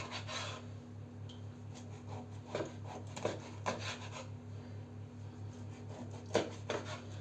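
Knife slicing through partly frozen mackerel on a board, quiet scraping cuts with a few sharper thuds as the blade meets the board, close and faint over a low hum.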